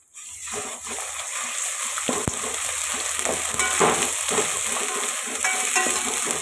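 Ginger garlic paste sizzling and frying in a pan for chicken fry piece biryani, a steady close crackle with occasional stirring scrapes, no talking.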